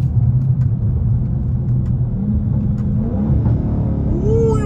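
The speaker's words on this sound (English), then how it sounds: "You hear them popping? That's because I'm on 93." Dodge Charger Daytona 392 on 93 octane fuel, a loud, close, low exhaust rumble while driving, with faint pops and crackles riding on a rising engine note.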